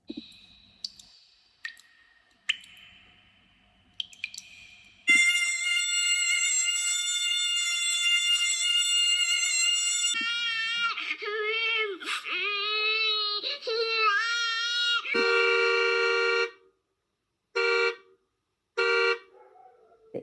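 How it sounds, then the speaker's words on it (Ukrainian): Four sound effects in sequence: a high thin mosquito whine, a run of water drips, a wailing baby's cry, then short car horn blasts with gaps between. "це писк комара, крапання води, плач дитини та сигнал автомобіля"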